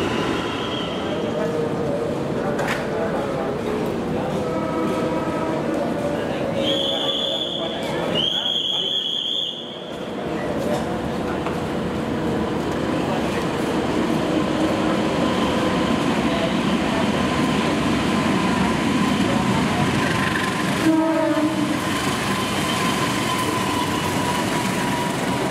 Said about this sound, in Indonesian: di stasiun Bogornya harus langsir lokomotif terlebih dahulu